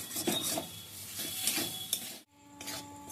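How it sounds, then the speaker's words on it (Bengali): Soybean momo filling is stir-fried in a pan, a spatula scraping and rasping against the metal in short quick strokes, close and fairly quiet, with a brief pause near the end. "এরপর খুব ভালো করে আমি ভেজে নিচ্ছি যাতে সোয়াবিনের কাঁচা গন্ধটা চলে যায়"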